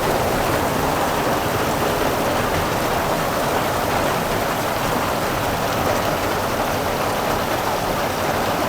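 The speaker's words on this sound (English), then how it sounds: "That's just what's dripping off the roof." Steady rainwater drips and runs off a roof during a downpour outside a machine shop, making a dense, continuous wash of splashing that stays loud and even throughout, with no voices.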